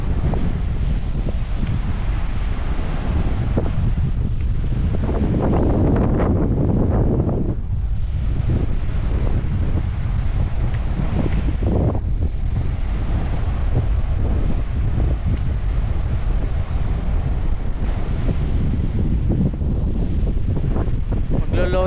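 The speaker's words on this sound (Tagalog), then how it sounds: "Malakas ang hangin, malakas ang agos," Strong wind at Weymouth Beach, New Zealand, at low tide batters the microphone in a continuous loud roar with gusty surges, mixed with the wash of waves and current.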